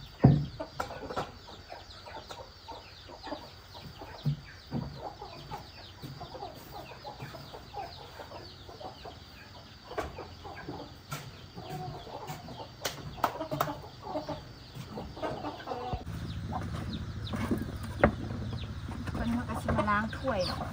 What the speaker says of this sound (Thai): เสียงเป็ดเสียงไก่ก็ฮ้องแห้ง